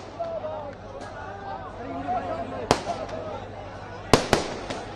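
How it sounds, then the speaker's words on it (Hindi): Fireworks go off outside during a celebration after a chief minister announcement in Uttarakhand. Several sharp bangs and crackles, a couple of them close together, sound over a continuous murmur of voices and a reporter's speech. "सबसे पहले तो आतिशबाजी का दौर बाहर शुरू हो चुका है और लोग बेहद खुशी के माहौल में है"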